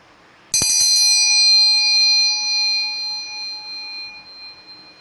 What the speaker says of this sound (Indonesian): saya akan melanjutkan dengan menyeduhkan air putih dengan ditandai lonceng